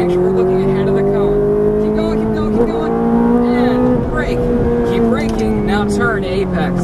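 A Ferrari F430 engine drones high and steady on a track as the driver works the throttle, its pitch rising and falling slightly with faint tire noise, up close and loud.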